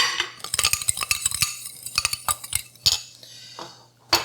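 Apple pudding mixture is stirred in a bowl, giving quick irregular scrapes and clinks of a utensil against the sides, close and fairly loud, with a faint steady hum beneath and brief pauses between strokes.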